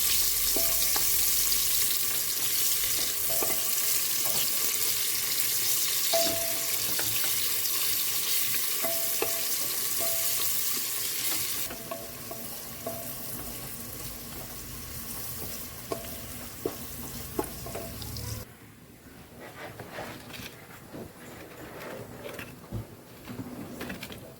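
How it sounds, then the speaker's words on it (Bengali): Onions fry in a pan with a loud continuous sizzle, joined by light clicks of stirring. The sizzle drops to a quieter crackle partway through, then fades further near the end. "পেঁয়াজ এগুলো একটু ভালো করে ভেজে নেবো"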